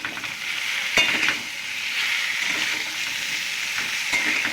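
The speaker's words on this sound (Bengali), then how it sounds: "এর মধ্যে দিয়ে নেড়ে নেবো একটু বেগুনটা" White eggplant from the garden frying with potatoes in a pan, a steady bright sizzle with a few sharp stirring scrapes and clinks near the start and end, close and continuous.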